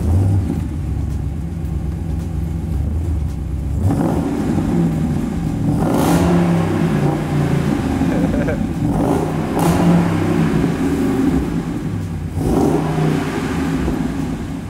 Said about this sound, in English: So you guys want to hear the sound that a V8 Hemi makes?